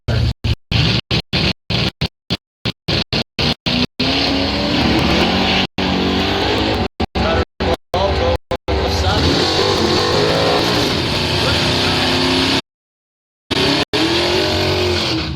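Drag race cars at a Northern Michigan dragway, including a 1985 Ford Mustang with a small-block Ford 400, with roaring engines and tire noise under a track announcer's continuous commentary, with frequent dropouts.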